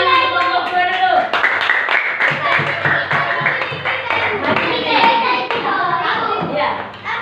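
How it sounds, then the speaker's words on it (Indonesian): Students in a classroom clap in rhythm for a group, close crisp claps layered with children's voices for several seconds. "Tepuk tangan untuk kelompok 2 dulu."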